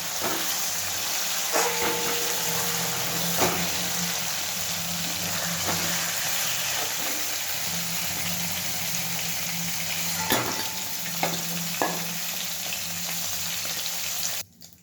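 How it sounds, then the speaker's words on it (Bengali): Paneer pieces frying lightly in hot oil give a steady, close sizzle throughout, with occasional clinks and stirring knocks of a utensil, and no talking. "আমি খুব হালকা করে পনিরটা ভেজে নিয়েছি"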